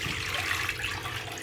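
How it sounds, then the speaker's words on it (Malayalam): A litre of water pours into a cooking pot on a large stove burner, a steady, even splashing rush throughout a brief moment, with no talk. "വെള്ളം ഒഴിക്കട്ടെ."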